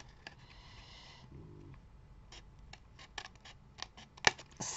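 Card paper for a triangular greeting card is snipped with scissors, a few quiet cuts at first and then a cluster of sharper, closer snips near the end.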